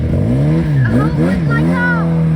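A 5.7-litre V8 Holden car engine hums and revs with rising and falling pitch, loud and close, under a steady rumble.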